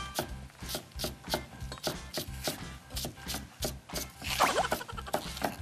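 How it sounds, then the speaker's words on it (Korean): Kitchen knife finely mincing green onion, garlic and ginger on a cutting board, a steady run of quick rhythmic chops, close and fairly loud, with brief scraping near the end. "대파, 마늘, 생강을 향채라고 하는데 이것도 곱게 다질 거예요."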